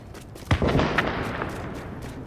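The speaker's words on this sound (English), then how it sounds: "Look at those gunshots. That's from somebody out there somewhere." Distant gunfire in Tom Clancy's The Division, a burst of several sharp reports and a louder crack followed by fading echoes, heard alone without talk.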